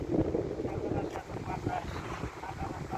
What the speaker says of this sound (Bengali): বাতাস আর বাতাস, ঠান্ডা বাতাস